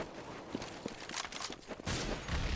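Auto sniper gunfire in a Counter-Strike match, with several sharp shots in quick succession that turn into a denser, louder burst near the end, heard alone.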